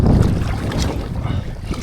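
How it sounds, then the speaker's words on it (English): Strong wind buffets the microphone beside Loch Lomond at Balmaha, a steady, loud, low roaring rush with gusty swells and no let-up. "how windy it is now"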